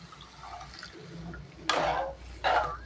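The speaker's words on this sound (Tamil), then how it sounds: "இப்போ காய்ச்சி ஆற வச்சுருக்கிற இந்த பாலை ஊற்றிக்கிறேன்" Boiled and cooled milk poured into carrot payasam in a kitchen, two short splashing pours of liquid following a quiet room background.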